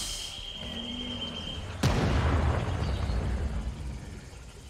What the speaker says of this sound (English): There's a rocket.